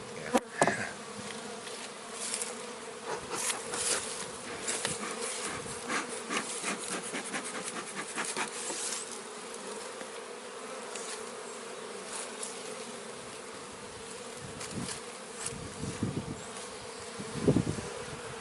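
Honey bees buzz continuously at close range, a dense droning hum with individual insects flitting past the microphone and occasional soft knocks.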